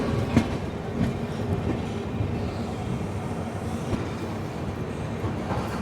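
The 13145 Radhikapur Express rolls into platform 3 at Nabadwip Dham, a loud, steady rumble of wheels and carriages with faint clicks, heard from on board the train.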